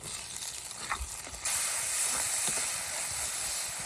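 Onion frying in oil with tomato added: a soft hiss that jumps to a louder, steady sizzle partway through, with a few faint clinks.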